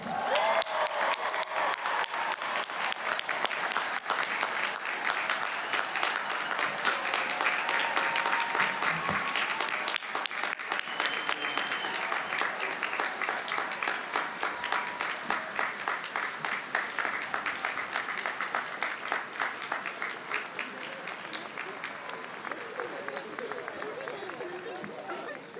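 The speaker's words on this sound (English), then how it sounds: "Please join me in congratulating Bowdoin's newest graduates with a round of applause." A large audience at the 2024 Bowdoin College commencement ceremony applauds the new graduates: dense, steady clapping mixed with crowd noise that holds strong for about twenty-five seconds and eases slightly near the end.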